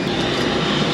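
Steady, loud roar of an airliner's engines heard from inside the cabin on a flight heading to Nice, a continuous broadband drone with no talk over it.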